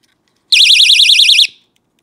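An electronic bite alarm on an ice fishing tip-up, triggered by a reed switch, sounds one loud, close, warbling electronic tone that lasts about one second before cutting off, with silence before and after.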